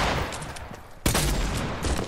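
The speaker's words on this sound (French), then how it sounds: "je tire n'importe comment" Gunfire in a battle royale shooter video game, a quick volley of sharp shots with a strong loud burst midway, close and continuous over a short stretch.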